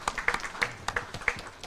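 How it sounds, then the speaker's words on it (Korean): An audience applauds a speaker at a Korean bio-industry forum, with a brief burst of scattered, fairly close claps. "큰 박수 부탁드리겠습니다"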